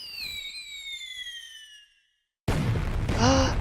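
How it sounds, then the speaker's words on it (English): Fireworks in the video game The Hundred Line burst across a night sky. Bright whistles slide downward and fade into a brief silence, then loud crackling bursts follow with a short chirping tone near the end. "Lavish fireworks flew through the night sky."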